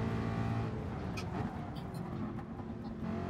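American muscle car in GT Sport, engine droning steadily and fairly loud throughout, with a few faint clicks over the top.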